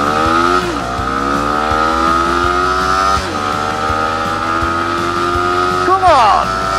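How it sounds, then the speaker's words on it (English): A Sinnis SM XE 125 motorcycle with a 15 horsepower engine accelerates hard from standstill toward 60, engine note climbing steeply and dropping at each gear change, loud and close, with a voice over it. "for the all-important 0-60 test, let's see what this snarling 15 horsepower engine can do"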